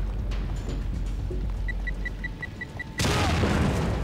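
Gunfire rings out in The Evil Within, a horror video game, with scattered shots and beeping tones before a loud burst of booming fire that fills the last second.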